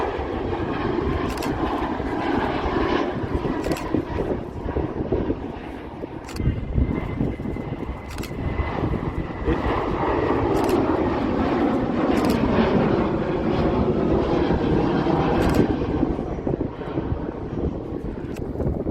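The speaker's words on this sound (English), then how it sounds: "737 MAX 9, Turkish Airlines doing its return flight to Antalya." A Turkish Airlines Boeing 737 MAX 9 jet roars steadily at Manchester Airport, a loud sustained engine rumble and whine with a thin rising tone, heard from nearby for the whole stretch.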